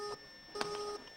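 A Russian phone line gives off dialing tones: steady pure beeps with short clicky bursts between them, moderately loud and alone without voices.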